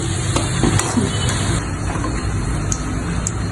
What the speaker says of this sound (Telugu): ఈ కాకరకాయ వేగేలోపు ఇవి కూడా మంచిగా వేగిపోతాయి